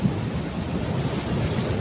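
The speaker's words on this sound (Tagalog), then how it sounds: "Oh, lakas ng alon." Strong sea waves surge and wash onto a shoreline at a fishing spot, a steady loud roar of surf mixed with wind buffeting the microphone, with no speech.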